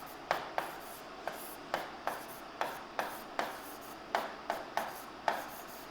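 Chalk or marker strokes on a classroom board during a geography lecture, a series of short sharp taps and scratches at an irregular, roughly half-second rhythm, close and clear with no talk over them.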